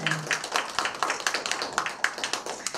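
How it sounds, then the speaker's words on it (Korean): A small audience at a live concert claps in a steady, even rhythm, with sharp hand claps repeating about every quarter second and no voices over them. "박수 한번 쳐주시면 고맙겠습니다"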